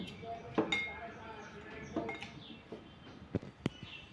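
Mint leaves and lemon pieces crushed in a glass for a lemon mojito, giving scattered sharp clinks and knocks of a muddler against the glass, close and fairly quiet, with several louder strikes spread unevenly.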